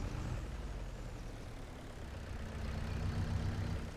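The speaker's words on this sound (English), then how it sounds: "I think that tractor's getting beat up a bit much. It sounds like it's getting a little harsh for us." Farming Simulator 25 tractor engine running rough and harsh, a low steady rumble with a rising droning tone toward the end, moderately quiet and without talk.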